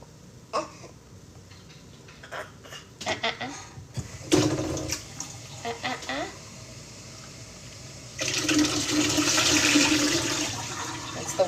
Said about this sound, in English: That's the water. We're cleaning this. We have to wash it so we can use it every day to make the milk.